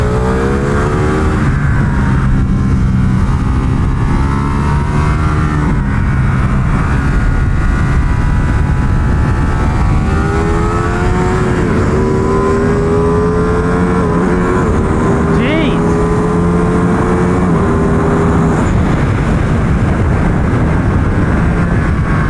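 Ducati Panigale V2 superbike racing on a track, its engine loud and close throughout, rising through the revs in repeated pulls with brief drops at gear changes, heard alone without voices.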